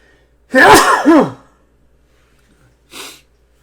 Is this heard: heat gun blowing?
no